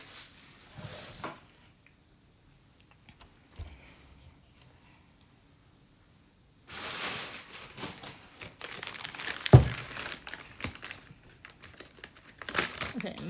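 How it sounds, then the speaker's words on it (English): Stoneware clay handled out of its plastic bag, with intermittent crinkling and rustling that turns into louder, busier crumpling and a sharp thump partway through. "We'll just have to get clay from the bag."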